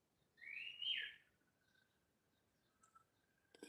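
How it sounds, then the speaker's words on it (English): A bird calls from the trees around a yard, one clear rising whistled phrase followed by a faint thin tone and a few soft chirps, fairly distant and quiet over a near-silent background. "We've got trees around the yard, so a lot of birds come"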